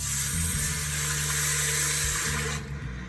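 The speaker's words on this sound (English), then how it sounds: "Listen to that sizzle." Liquid pours into a hot pot of cooking chili, giving a loud, steady broadband hiss and sizzle that holds for a few seconds before easing off, with no talking.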